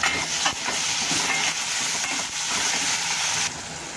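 Finely chopped tomato frying in oil with a spoonful of ginger-garlic paste, a dense continuous sizzle close by with a few brief clatters and scrapes of a stirring spoon.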